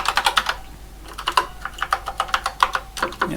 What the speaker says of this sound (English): make sure all the keys work